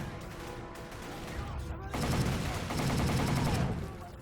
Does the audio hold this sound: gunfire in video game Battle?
yes